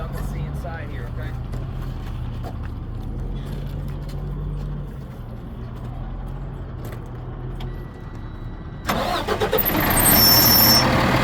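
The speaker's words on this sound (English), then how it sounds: "I'm gonna cut this truck on" A diesel truck tractor idles as a low steady rumble, with faint jangling and clicks partway through, then a louder surge near the end as the engine is started or revved.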